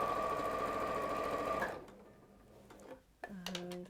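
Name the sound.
sewing machine chain stitching fabric pieces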